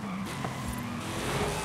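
Dodge Charger SRT Hellcat Redeye engine in Forza Horizon 5, a brief burst of car engine roar with tire squeal or skidding, heard alone and at moderate loudness for under two seconds.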